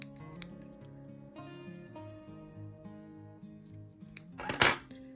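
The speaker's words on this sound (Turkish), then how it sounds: "Şöyle uç kısımlarını da keselim." Scissors snip the ends of a yarn tassel, with a couple of quick, crisp cuts late on, heard over soft background music.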